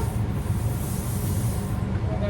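Pet-safe styling spray misted onto a dog's fur: a close, continuous hiss of aerosol over a low rumble, lasting a couple of seconds.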